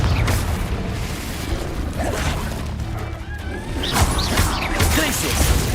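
Confringo blasting spell cast in a Harry Potter video game, a dense continuous roar of crashing and rumbling impacts with scattered bangs, loud and close, over busy game ambience.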